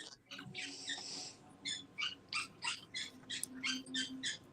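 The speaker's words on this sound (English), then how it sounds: "Do you like the bird, Mac? Do you think that's good sound effects?" Bird sound effect: one drawn-out squawk followed by a quick run of about ten evenly spaced, chirping calls, close and fairly clear against a quiet background.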